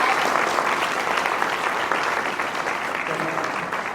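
A theatre audience in an auditorium gives dense, sustained applause, steady and fairly loud from start to finish.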